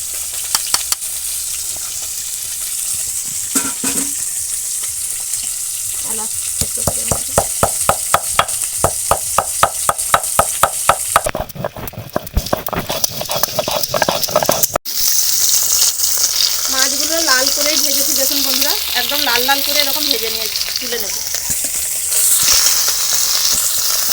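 Pond fish frying in hot oil, a loud, close sizzle running throughout with a burst of sharp rhythmic knocks in the middle and a brief cut partway through.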